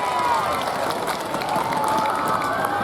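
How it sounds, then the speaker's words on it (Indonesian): An audience at a school marching band farewell concert claps and cheers together, producing a dense, steady wash of applause that stays loud throughout, with crowd voices mixed in. "Mana tepuk tangannya?"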